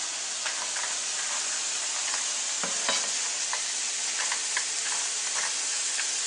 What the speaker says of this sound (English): What I'm going to do now is I'm going to throw in the cashews.